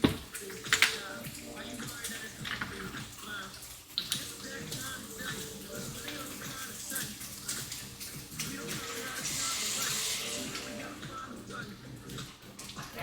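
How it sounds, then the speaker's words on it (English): Liquid hits a hot pan to deglaze it while a lettuce-wrap sauce is being built, giving a hissing sizzle that swells in the second half over low kitchen clatter and background sound. "heat is cranked on this. Got a little deglaze."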